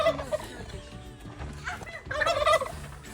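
A turkey gobbling nearby in bursts of rapid, warbling calls, with a louder, fuller gobble toward the end and quieter rustling between.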